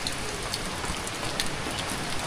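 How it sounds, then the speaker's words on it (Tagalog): Heavy rain pours steadily over a vegetable garden of cherry radishes, a dense, even hiss of drops close by with scattered louder patters, heard alone with no talking. "Bumuhos na ang ulan. Hindi na ambon."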